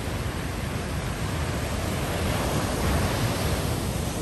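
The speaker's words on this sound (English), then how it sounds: "Go to sleep every night with the sound of the crashing waves." Steady roar of ocean surf washing onto a shore, a continuous rushing swell with no voices.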